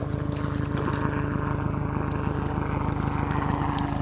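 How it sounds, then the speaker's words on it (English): A helicopter flies overhead near Hoffman Island off New York City, its rotor chopping in a fast, steady, loud pulse with engine roar that fills the whole moment above open water. "I have a helicopter going overhead"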